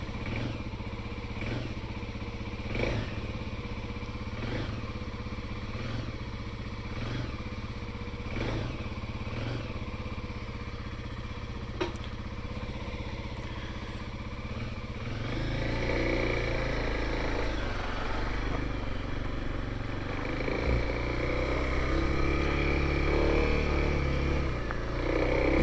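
A 2021 Kawasaki KLX300 motorcycle with stock exhaust idles quietly and evenly, a steady low thumping engine note that grows slightly fuller and rougher in the last stretch.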